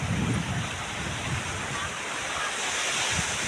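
Strong ocean waves wash onto the shore in a steady, broad roar with a louder surge at the start, mixed with wind noise on the microphone and faint voices on the beach.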